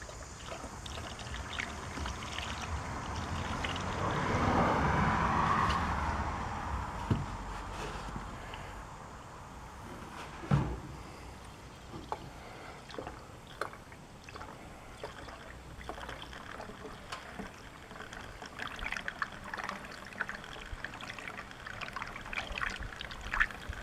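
Coolant pours and trickles into the radiator of a 2014 Chevrolet Silverado during a thermostat replacement, a swelling gurgle followed by scattered drips and clicks, close and quiet.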